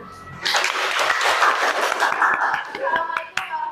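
A small group breaks into applause at the end of a school class presentation, dense and fairly loud, lasting a few seconds with some voices mixed in.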